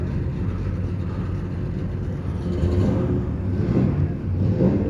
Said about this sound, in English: So he has a wing car and he's leaving.